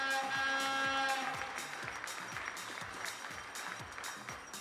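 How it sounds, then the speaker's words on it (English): Audience applause at a junior European Championship air rifle final for the sixth-place shooter, a sustained crowd clapping in an indoor hall with a rhythmic patter, moderately loud and steady, a faint tone fading at the start. "please give a round of applause for Russia's Daria Boldinova"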